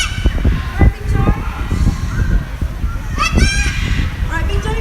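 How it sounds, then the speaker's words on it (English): A large bird screeches loudly during a bird park show, harsh honking calls mixed with a presenter's talk and crowd noise throughout, with a few sharper squawks standing out near the middle and end. "birds like Big John here, they love to scream their heads off"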